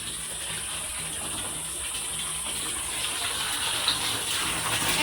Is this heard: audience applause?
no